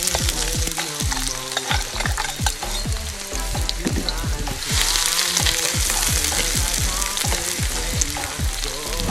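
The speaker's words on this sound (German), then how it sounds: "Wir fangen an, Zwiebeln anzubraten." Onions sautéing in olive oil for a rustic Spanish mountain-style kettle meat stew, a dense, steady sizzle with frequent scraping stir strokes, close and loud throughout with no talking.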